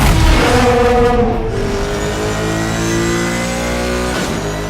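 A race car engine from the video game Need for Speed Shift 2 roars loud and close, its pitch sweeping up and down through gear changes and revving, with no talk over it.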